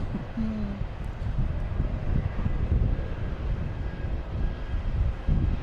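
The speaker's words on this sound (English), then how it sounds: "the Spirit Airlines is flying over our heads again" A Spirit Airlines airplane passes overhead near Boston Logan Airport, a broad low jet rumble holding steady over several seconds, moderately loud outdoors.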